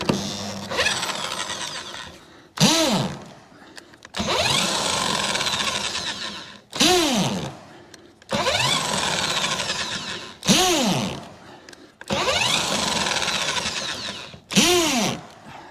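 A smoking, struggling power drill bores into a wooden fence post in four long, strained bursts, each ending as the motor winds down before starting again, loud and close.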